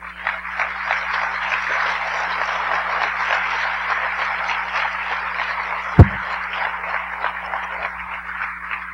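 Church congregation applauding together, a sustained, even patter of many hands clapping through the room, broken by one sharp thump midway, with a low steady hum underneath.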